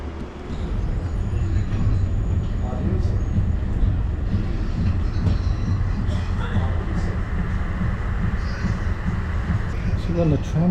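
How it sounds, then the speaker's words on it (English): Rumbling ride aboard a tram in Milan, a steady rolling hum with rattles and squeaks of the car, and people talking faintly in the background. "So we're on the tram going towards the door now."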